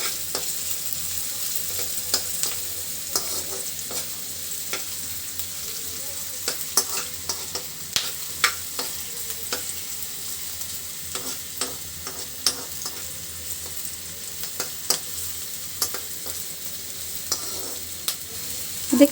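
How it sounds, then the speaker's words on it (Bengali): Onion frying in a pan for papaya bharta, a long steady sizzle with frequent sharp scraping clicks from stirring throughout, close and fairly loud, no voices. "দেখতেই পাচ্ছেন কিভাবে পেঁয়াজটা আমি ভাজি করছি"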